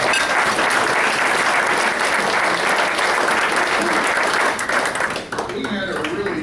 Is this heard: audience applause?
yes